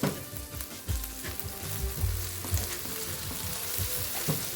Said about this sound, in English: So far, the chorizo has been cooking for about 4 minutes.